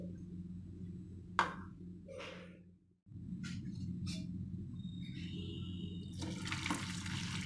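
Water is poured from a tap into a pot of corn to be boiled for a homemade corn chaat, a few short splashing bursts over steady kitchen hum, with clinks of the pot near the end.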